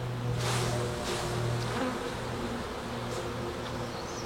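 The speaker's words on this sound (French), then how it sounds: "en rajoutant des abeilles que je récupère sur des cadres de couvain" Honeybees buzz steadily around brood frames being handled at a hive, a continuous close droning hum with brief swells and rustles, no voices.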